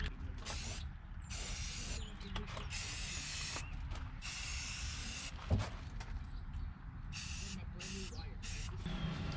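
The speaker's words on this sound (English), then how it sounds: "put a bit of spray paint on the underneath" Aerosol spray paint hissing in repeated bursts of a few seconds each onto boat vents on a Hallberg Rassy 54 yacht, outdoors in gusty wind, with a person talking in between.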